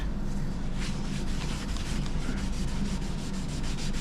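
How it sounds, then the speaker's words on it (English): Sanding old reused wood by hand, a steady scratchy rubbing with repeated back-and-forth strokes, close and continuous throughout with no talking. "I'm going to take it inside, sand it down, and put some stain on it."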